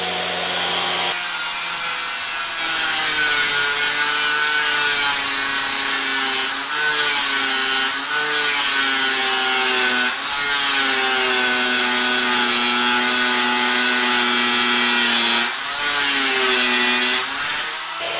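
Power saw cutting wood at a 45-degree angle for a sliding serving window frame for a trailer, a loud, steady whining cut lasting several seconds, with brief dips between passes and no talking.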